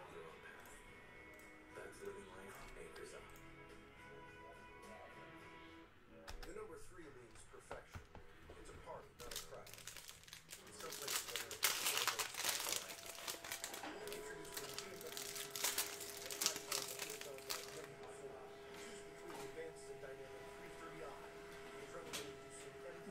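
Panini Hoops 2019-20 Premium Stock basketball card cello pack torn open up close, a stretch of crinkling and ripping plastic wrapper noise building in the middle and continuing under faint background hum.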